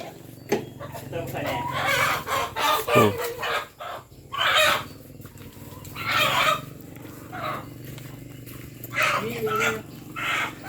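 Chickens cluck and a rooster crows several times outdoors, with loud bursts spread through the clip and people talking nearby.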